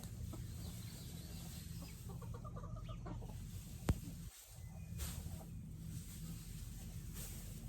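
Chickens in a muddy chicken run give soft, intermittent clucks at close range over a steady low background hum, with a sharp brief knock partway through.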